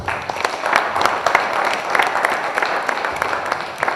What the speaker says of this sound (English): So please, another round of applause for my sister